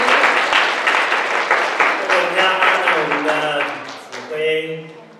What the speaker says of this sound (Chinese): 我们再一次的用热烈掌声归荣耀给神